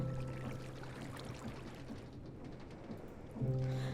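Water wheels turn in flowing water in the Minecraft Create mod, giving a faint, continuous rushing and splashing wash at low volume, steady throughout with a slight hum near the end.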